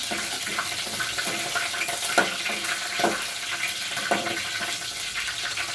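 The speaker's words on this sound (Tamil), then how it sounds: "இப்போ வெங்காயம் உள்ளே போட்டிருக்கேன் நான். வெங்காயம் போட்டோன்னே என்ன சவுண்டு வருது பாருங்க." Onions and curry leaves sizzling in hot oil, a steady crackling hiss with a few sharper pops and spatters as the pan is stirred, close and fairly loud with no talking.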